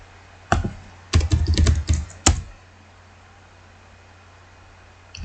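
Typing on a computer keyboard, with one short click, then a quick flurry of close keystrokes and a final tap, followed by quiet hiss.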